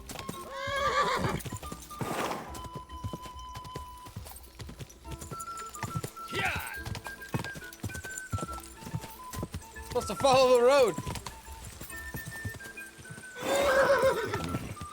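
Rhythmic hoofbeats clip-clop beneath loud excited voices during a horse race in the video game Kingdom Come: Deliverance 2, and a horse whinnies several times, with game sounds mixed in.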